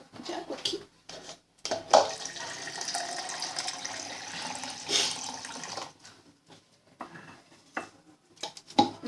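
Water poured from a container onto dry cornmeal flakes for cuscuz, coming in several splashy bursts with short pauses between them, close by.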